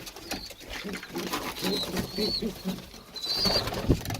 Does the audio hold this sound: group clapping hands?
no